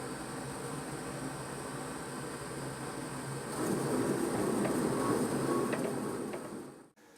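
An old 1990s bread maker churning dough, a steady mechanical whir and hum that grows louder midway, then cuts off abruptly near the end.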